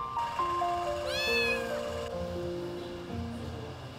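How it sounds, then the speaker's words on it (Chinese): A recorded kitten meow is played outdoors during a street-cat trapping effort: one clear, rising-and-falling mew amid steady electronic tones and low background noise. "放奶猫的声音。"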